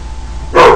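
A pet dog gives one short, sharp bark at the very end, loud and close, after a brief stretch of quiet background.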